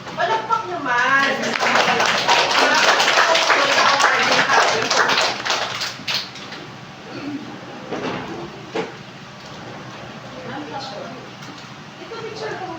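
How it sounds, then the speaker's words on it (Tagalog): Dense, rapid clapping from a group at a school awards ceremony fills the first six seconds, then fades to a few scattered claps with voices talking nearby. "Palakpak naman."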